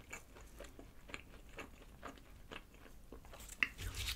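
Repeated bites and chewing of a Domino's avocado shrimp pizza drizzled with garlic dipping sauce, soft crunchy mouth sounds in a steady close-up rhythm with no talking.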